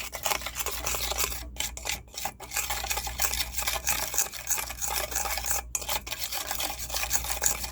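Apple cider vinegar dressing for a broccoli salad being mixed, a steady close scraping and stirring that runs nearly the whole time with a few brief pauses.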